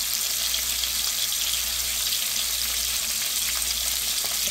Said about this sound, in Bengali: এখন আস্তে আস্তে এটাকে লাল লাল করে ভেজে নেব।